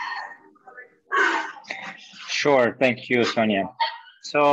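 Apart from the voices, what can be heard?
dog barking in the background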